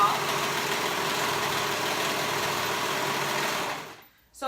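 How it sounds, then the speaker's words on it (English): A sewing machine runs steadily along the raw edges of fabric pieces for a rash guard, a close, continuous mechanical hum that holds for about four seconds before stopping abruptly. "So I'm gonna go ahead and sew those raw edges, being careful that my fabric doesn't slip"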